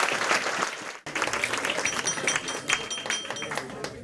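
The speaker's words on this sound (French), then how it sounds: "j'aimerais bien qu'on applaudisse bien fort toutes les petites mains" Cabaret audience applauding: a burst of clapping that cuts off briefly, then resumes with a mix of claps and crowd noise, moderately loud.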